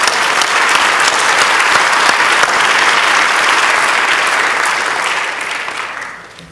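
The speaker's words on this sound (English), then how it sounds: "So I just want to give you guys a round of applause real quick." Parents at a lacrosse parent and athlete presentation give the coaches a round of applause, a loud, thick burst of clapping that holds steady and then fades out over the last couple of seconds.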